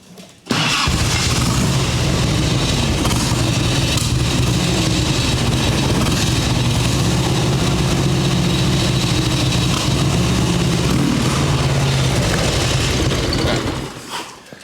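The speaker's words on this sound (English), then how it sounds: "It wants to idle on its own now." A 1989 Harley-Davidson Ultra Classic bagger motorcycle engine idles loudly and steadily up close, a dense low rumble with a faint throb that holds for about thirteen seconds before cutting off, while carb and intake issues are being fixed.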